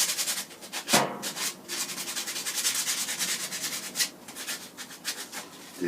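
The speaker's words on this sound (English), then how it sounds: "you just take a little bit of sandpaper and" Sandpaper rubbed by hand over a wooden walking stick handle coated with PVA, a steady rasping scrub of repeated strokes close up, fairly quiet, with no voices.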